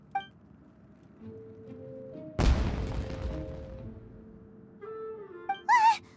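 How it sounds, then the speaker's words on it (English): Fireworks exploding in the Genshin Impact video game: one sharp, loud blast with a crackling decay, set among quiet game tones and chimes, followed by a couple of brief bright bursts near the end. "Was that an explosion? It sounded like fireworks."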